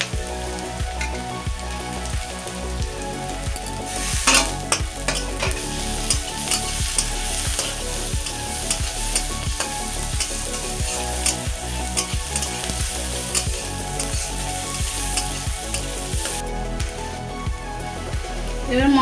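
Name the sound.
spices, garlic and ginger frying and sizzling in a pan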